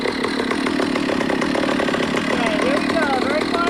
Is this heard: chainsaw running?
yes